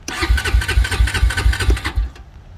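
A small engine at an auction preview cranking and sputtering in quick rhythmic chugs, close and loud, fading out after about two seconds without catching.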